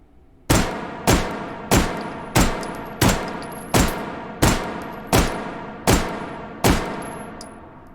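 Ten evenly spaced pistol shots ring out in the H3VR virtual reality game. Each is a loud, sharp crack with a ringing decay, fired at a steady slow rhythm with no talking.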